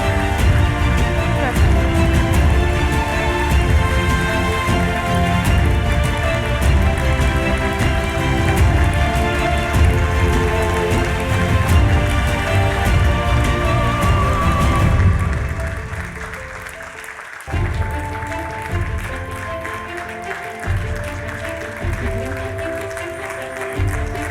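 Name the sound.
audience applause at award ceremony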